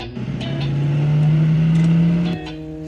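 An old, rattly motorbike engine holding a steady droning hum that swells and then drops off near the end, loud and close, with faint clatter around it.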